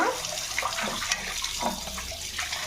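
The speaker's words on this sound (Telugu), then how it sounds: "ఇవి బాగా ఉప్పేసి కడగాలి, 4-5 సార్లు కడగాలన్నమాట." Grass carp being washed with salt in water, close splashing and sloshing of water by hand with rubbing and small bursts, continuous and unaccompanied by speech.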